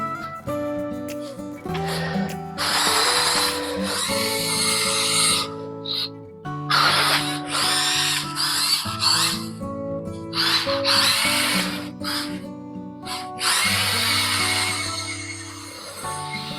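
Whining electric motor of a 1/12 scale RC military jeep driving in high gear, a steady high buzz with shifting pitch as it accelerates and turns, close and loud throughout.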